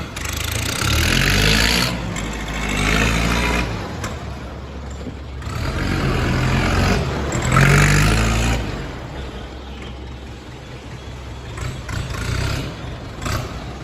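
A used Kubota M7040 tractor engine runs with a steady, loud diesel rumble that swells and eases a few times over the span, alone without any talk.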